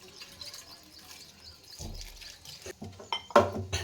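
Water goes into a pressure cooker holding green chillies, cumin and garlic for a pundi palya dish. Quiet at first, then short bursts of pouring and splashing build to a louder close-up splash near the end.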